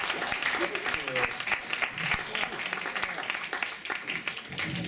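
An audience claps steadily through a lively birthday celebration, the dense applause running the whole time with voices talking over it.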